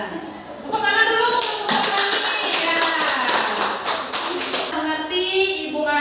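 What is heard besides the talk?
class clapping hands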